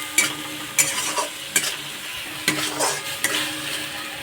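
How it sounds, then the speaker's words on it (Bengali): A spice paste of ginger, garlic and dried chili frying in a pan, with a steady sizzle broken by a few sharp scraping stirs at an even pace; no one speaks. "ভালো করে এবার মশলাটাকে কষাতে হবে।"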